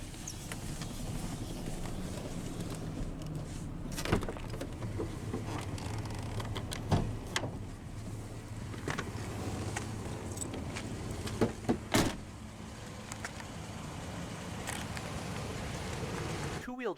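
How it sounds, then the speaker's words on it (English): The power driver's window of a 2003 Chevrolet S-10 LS Extended Cab lowers with a long, steady motor hum under outdoor background noise, with a few sharp clicks and knocks along the way. "Now we'll roll down the driver's window and take a look at the engine bay."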